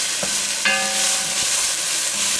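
Vegetables sweat and sizzle in a hot pan after a sprinkle of kosher salt, a steady close frying hiss with a few clinks of stirring partway through, no talking.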